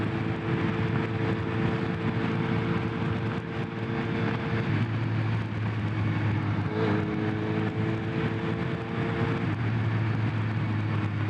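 A Kawasaki ZRX1200R carbureted motorcycle engine hums steadily while being ridden, with a low droning tone and a slight pitch shift midway, heard close under continuous wind and road noise.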